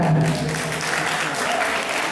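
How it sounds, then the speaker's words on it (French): Crowd applause at a celebration for the Géoraid adventure rally in Benin: a continuous, even wash of many hands clapping, fairly close, with faint voices underneath. "On applaudit encore Hélène et Marie"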